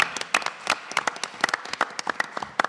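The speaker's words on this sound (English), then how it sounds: "You can applause for them" Applause from a small audience at a college board of trustees candidate forum, with individual claps clearly separated and irregular, close and fairly crisp, lasting a few seconds without speech.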